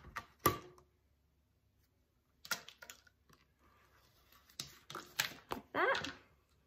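Scissors snip through a small piece of cardboard-like material for a floss organizer, giving a few separate, close crisp cuts with brief pauses between them.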